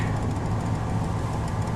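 A stone-cold 1970 Ford Torino GT idles fast and steady on its automatic choke just after a cold start, a continuous low engine rumble with a dense, even drone and no speech.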